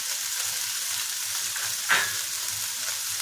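Onion sizzles steadily in hot oil for a dhaba-style butter chicken gravy, with a brief clatter partway through as ginger pieces and peeled garlic go into the pan. A continuous close hiss with no voices.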